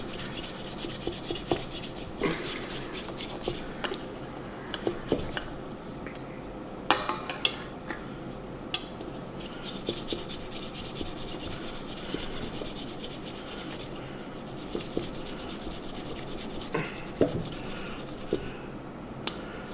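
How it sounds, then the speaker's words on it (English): A dirty luxury watch is scrubbed by hand with a brush, producing steady close-up rubbing and scratching strokes with occasional sharper clicks and knocks, continuous throughout with no talking. "Time to scrub. See that? Scrubbing."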